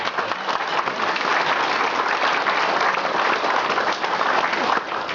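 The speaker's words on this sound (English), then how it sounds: "A big round of applause for all of those guys." A dinner audience gives sustained, full applause, a dense, loud roar of many hands clapping at once that holds steady for several seconds, with faint voices mixed underneath.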